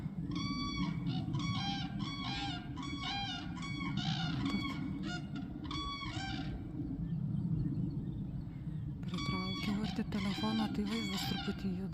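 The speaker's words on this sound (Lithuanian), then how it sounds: "Va ten gervės. Dvi. Sveikinasi jos mane." Two cranes call on a snowy March morning outdoors, giving repeated clustered bursts of honking, trumpeting cries, with a pause before a final flurry, while someone talks over them.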